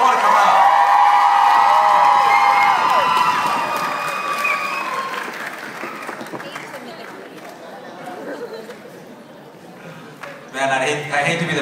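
A crowd of audience members cheers, whoops and yells loudly at first, then the noise fades into scattered chatter and a brief burst of applause near the end.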